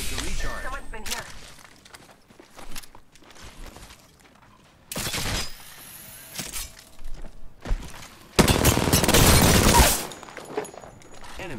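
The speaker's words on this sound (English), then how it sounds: "Opening fire. Getting shot at." Apex Legends gunfire: scattered sharp shots, then several loud bursts of rapid automatic fire. The heaviest burst comes near the end, with quieter game sounds between the bursts.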